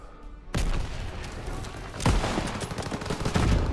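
Rifle gunfire in Call of Duty WW2 during a battle against SS troops: loud, sharp shots, the first at about half a second and another around two seconds, over a dense wash of battlefield gunfire and rumble.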